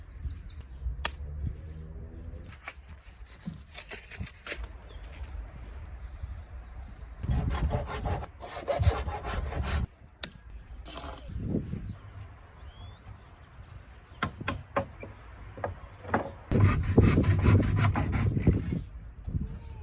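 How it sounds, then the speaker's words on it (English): A hand saw cuts through wooden decking on an allotment in steady back-and-forth strokes, growing louder and busier toward the end, while birds chirp faintly in the background. "This was the saw that I managed to use to just cut off some of the decking."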